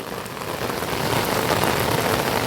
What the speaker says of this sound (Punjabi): ਹੁਣ ਮੀਂਹ ਬਿਲਕੁਲ ਫੁੱਲ ਤੇਜ਼ ਹੋ ਗਿਆ ਆ